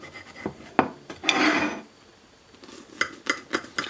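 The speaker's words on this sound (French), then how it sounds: "Allez, on va se couper une jolie part" A knife slicing through a soft lemon brioche: a brief scraping rasp through the crust, then several light taps and scrapes of the blade, close and quiet.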